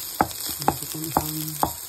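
Onion and chicken sauté in a pan with a soft, steady sizzle. Four sharp, evenly spaced clacks from a utensil striking the pan cut through it, with a faint hum underneath.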